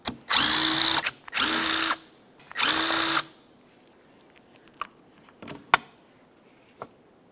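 A power drill spins out three 8mm mounting bolts on the wiper motor of a 2002–2005 Ford Explorer: three loud, close whirring bursts about a second each, followed by faint clicks and small handling noises.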